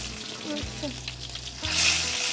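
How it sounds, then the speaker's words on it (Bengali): Tomatoes sauté lightly in a pan on a TV cooking show, giving a steady soft sizzle with faint stirring that swells near the end, while a low hum runs underneath. "টমেটোটা হালকা একটু সটে করে নিতে হবে।"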